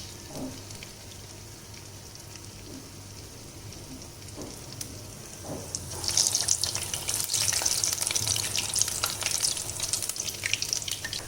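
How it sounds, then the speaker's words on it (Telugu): Garelu, lentil fritters for a festival offering, hiss and sizzle in hot oil. The sound stays faint for about six seconds, then swells into a loud, dense, crackling fry that continues to the end, with no talking. "గారెలా కాగుతున్న నూనెలో వేసేటప్పుడు దాని అంతటా అదే పైకి వచ్చే వరకు కూడా వెయిట్ చేయాలండి."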